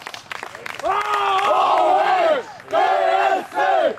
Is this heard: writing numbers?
no